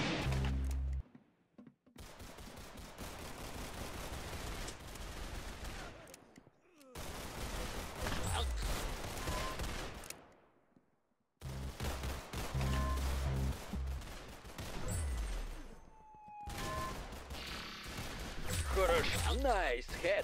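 Bursts of rapid gunfire from the Roblox shooter game Arsenal come in several loud, closely packed volleys separated by brief silences, with game effects at the end.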